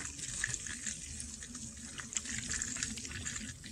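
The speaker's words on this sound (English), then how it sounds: "That is our electric water pump working, and that's going to bleed our system." Faint electric water pump running in a BMW E90 engine bay while bleeding the cooling system after radiator replacement, a soft continuous hiss and trickling flow of coolant, quiet and steady with small bubbling ticks.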